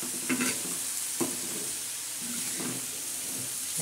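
Radish chutney with green chillies and garlic stirred on a hot griddle: a steady sizzle broken by a few sharp scrapes and knocks of the spatula, with no voices.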